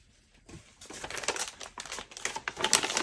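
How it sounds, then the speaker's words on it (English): Bubble envelope being pulled open and handled, giving close, irregular crinkling and rustling bursts that grow busier over a few seconds. "I'm just going to pull everything out. And so it came in this bubble envelope."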